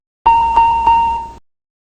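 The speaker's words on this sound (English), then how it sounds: "and the triple chime." Triple chime aural warning in an Embraer E190 cockpit: three evenly spaced electronic dings in quick succession, each struck crisply and overlapping the previous decay, then a short fade to silence.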